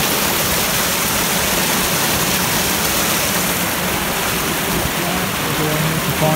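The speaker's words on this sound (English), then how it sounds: "And here comes the rain." Rain falls outdoors beside a stream near a castle ruin on the Isle of Skye, a steady, dense hiss of drops that stays loud and even throughout with no voices.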